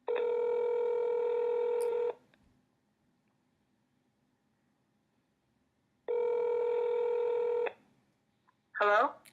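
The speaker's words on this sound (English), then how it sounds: "I thought that was my phone." Two bursts of electronic phone ringing, each about two seconds long and separated by a silent gap, with a brief voice at the end.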